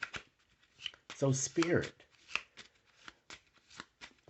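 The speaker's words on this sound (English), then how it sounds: "I'm going to go on and just shuffle up right now." Tarot cards being shuffled in the hands during a reading, a soft riffling and papery flicking heard in short bursts beneath a nearby voice that speaks briefly.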